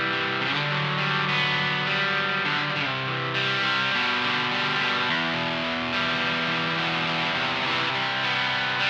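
Electric guitar played through a Tym Guitars Overdriverer pedal turned up to a heavy overdrive distortion, with dense, sustained, bright and biting chords ringing continuously at high volume and no talking.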